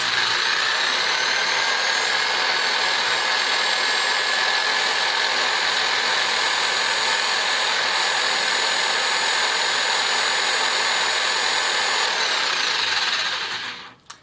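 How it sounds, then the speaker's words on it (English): A steady whirring electric drill runs continuously at a high pitch for many seconds, winding thread onto a loom boat shuttle, then cuts off abruptly at the end. "I wish this drill went just a little bit slower, but it works."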